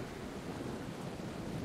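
Steady rain in the video game Mutant Meltdown, a dense even hiss with a low rumbling wash underneath, continuous and faint.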